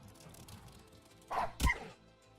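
Dog unit in the Wargroove strategy game barking as it attacks, two sharp, close barks in quick succession rising out of a quiet game background.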